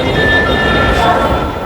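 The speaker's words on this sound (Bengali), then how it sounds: "যে এখানে একটা ট্রেন আসতেছে, যারা মতিঝিল যাবে আর কি।" Dhaka metro train pulling into a station at night, a loud steady rumble with a thin high squeal of wheels, while people talk nearby.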